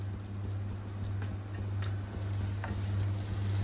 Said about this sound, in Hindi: अब इसके अंदर हम डाल देते हैं अपनी एक कटी हुई प्याज